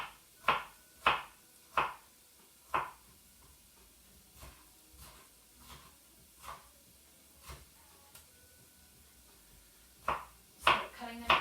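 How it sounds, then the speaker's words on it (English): A knife chops a bell pepper into cubes on a board for a springtime risotto, with sharp, close, irregularly spaced taps, some in quick clusters, against a quiet kitchen background. "So cutting them into strips and then cutting the strips into cubes."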